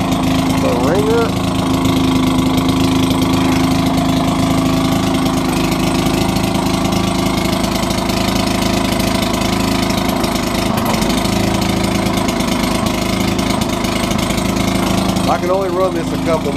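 A Maytag 72 gas-powered washing machine engine runs the wringer indoors, a loud, steady small-engine putter with a rhythmic mechanical chug throughout, plus brief squeaks.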